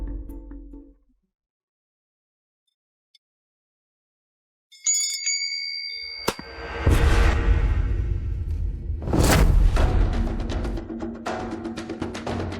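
A small bell gives a bright, ringing chime that sustains after the strike. A loud sweeping whoosh and rumbling impacts follow, and no one speaks.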